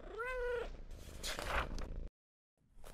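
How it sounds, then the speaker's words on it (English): A cat meows close by, a drawn-out wavering call followed by a shorter second meow, then a brief silence before faint rustling resumes. "One day, little Ryan got a cat named Sergeant Whiskers."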